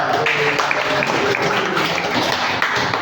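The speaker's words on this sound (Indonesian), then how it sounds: "tepuk tangan Mas Iqbal." Class of trainees in a computer hardware lesson about CPU sockets clapping, a fairly close, busy patter of hands with individual claps audible, steady over a noisy room.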